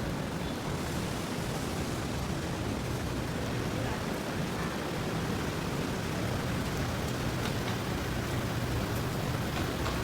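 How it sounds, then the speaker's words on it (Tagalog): Steady rain falls outdoors in Manila during a typhoon, a dense, even hiss of drops that holds constant and loud for the whole stretch with no breaks and no voices. "Oh my God, guys. It's raining."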